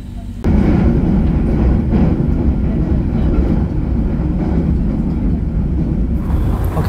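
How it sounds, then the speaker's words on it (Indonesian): The Gajah Wong passenger train departs Wates station with a loud, continuous rumble and rattle of rolling stock that starts abruptly and holds steady close by. "kereta api Gajah Wong sudah berangkat dari stasiun Wates"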